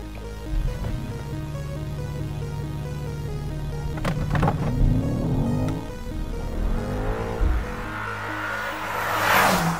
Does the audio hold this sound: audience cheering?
no